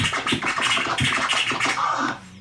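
A DJ scratches a vinyl record while chopping the crossfader between the forward and back strokes, producing quick choppy bursts in an uneven rhythm, loud and close with no talking.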